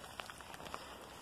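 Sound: heavy rain pouring

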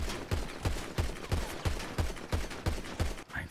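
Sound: gunshots in the video game GTA

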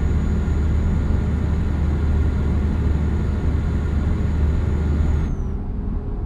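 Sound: truck engine accelerating in Euro Truck Simulator 2 video game

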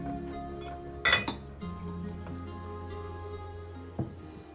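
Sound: ice clinking into a glass

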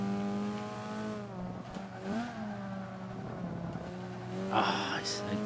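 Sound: Alfa Romeo race car engine and tires, Forza 5 video game

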